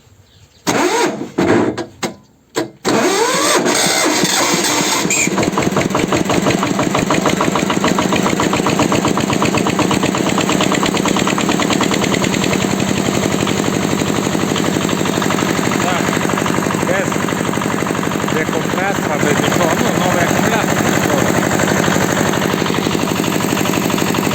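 A homemade rotary tiller with a Moskvich-style ignition cranks in a few rough bursts, then its engine catches and runs loud and steady close by, with a rattling mechanical drone.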